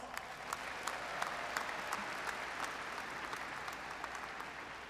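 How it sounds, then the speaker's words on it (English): Graduates at a 2022 convocation applaud steadily for the full five seconds, a dense, even wash of many hands clapping at moderate distance, with no voices standing out. "give yourselves a round of applause"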